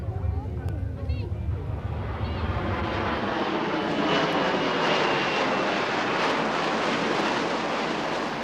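A military jet or warbird at an RAF air display, a loud, rising roar that swells into a sustained near pass, with speech heard underneath at the start.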